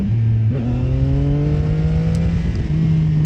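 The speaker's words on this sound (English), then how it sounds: "it's so easy to rev match too" A CF Moto 675 motorcycle engine revs on a road ride, a loud close droning note that dips briefly then climbs steadily in pitch with wind rush, no voices.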